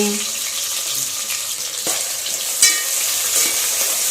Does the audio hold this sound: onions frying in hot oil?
yes